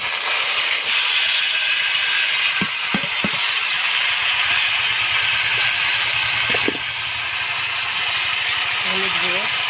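Steamed taro tipped into tempering spices frying in a clay pot, giving a loud, steady hiss and sizzle with a few soft knocks and scrapes, while a voice talks quietly over it.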